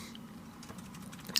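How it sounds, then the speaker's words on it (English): Quick keystrokes on a computer keyboard, a short burst of soft clicking taps at close range, with no talk over it. "What are you typing about?"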